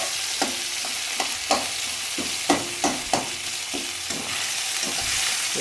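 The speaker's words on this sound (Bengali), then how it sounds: "খুব ভালো করে টমেটোটাকে মিশিয়ে নিচ্ছি।" Tomato being stirred into frying chicken with a spatula, a steady loud sizzle broken by repeated sharp scrapes and taps of the spatula against the pan, close and with no talking.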